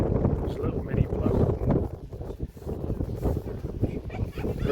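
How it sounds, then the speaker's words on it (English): Strong wind buffeting a microphone outdoors in Iceland, a heavy low rumbling roar in uneven gusts throughout, with a voice speaking underneath. "the wind's blowing"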